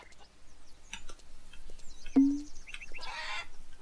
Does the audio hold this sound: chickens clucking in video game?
yes